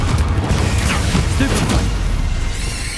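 A Confringo curse explodes in the video game Hogwarts Legacy amid the noise of a spell duel. Dense, booming bursts and crackling blasts fill the short stretch at close range.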